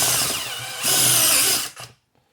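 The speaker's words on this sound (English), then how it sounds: "on the step drill, 10mm there. Bit more." A step drill bores a 10 mm hole for a custom turbo boost gauge build, a loud steady whirring grind that rises in pitch for a moment and then winds down abruptly to silence.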